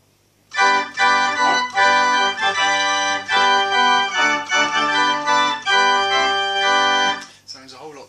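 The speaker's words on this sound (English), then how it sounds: "This is the full great with the rather overbearing sesquialtera," A pipe organ plays the full great with sesquialtera, a bright, reedy chord passage with a prominent nasal mixture tone, loud and sustained, in several phrases before stopping abruptly.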